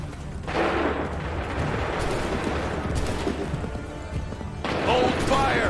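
Musket volleys from a colonial-era battle in Assassin's Creed 3, a dense crackling barrage of gunfire and shouting soldiers filling the scene, with a fresh burst of loud shots near the end.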